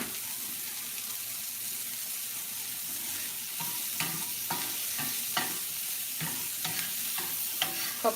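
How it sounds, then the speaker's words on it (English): Noodles and sausage sizzle in a pot under a steady hiss, with a spoon stirring and clinking against the bottom in irregular taps that grow busier toward the end. "My noodles, you got to keep a stir on to make sure they ain't sticking together or sticking to the bottom of the pot"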